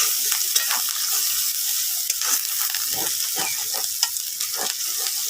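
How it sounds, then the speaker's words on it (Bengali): Small ground shrimp fry in spice paste with a loud, constant sizzle and hiss close by, while a spoon scrapes and stirs the pan in irregular strokes. No one speaks. "আমি এই মশলার মধ্যেই আমার চিংড়ি মাছগুলো দিয়ে দিচ্ছি"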